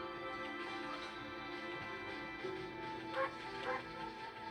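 A dog barks in the video game Okami: soft, faint yips and a couple of short barks sit over a quiet bed of game music.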